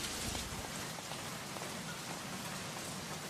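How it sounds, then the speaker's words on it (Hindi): Dense, steady rainfall in Mumbai pattering on a surface, constant and hissing with no voices. "ये बम्बई की बारिश भी ना. I hate rain."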